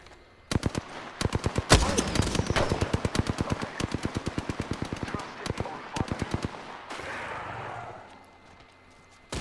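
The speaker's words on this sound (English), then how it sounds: "I am taking fire, friends." Rapid automatic gunfire in a combat video game, long bursts of loud cracks in quick succession with brief gaps, fading into a softer rumble, with a player's voice speaking over it.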